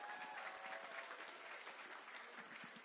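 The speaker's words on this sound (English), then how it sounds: "let's give him a round of applause" An outdoor crowd at a DVCA closing celebration gives Mr. Davis a round of applause, a steady, moderately faint patter of many hands clapping that continues evenly to the end.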